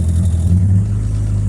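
Mazda Miata engine idling steadily with a strong low rumble, then a small, brief throttle blip that lifts the revs slightly before settling; close and continuous, with no talk over it.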